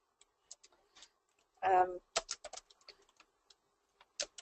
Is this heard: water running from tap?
no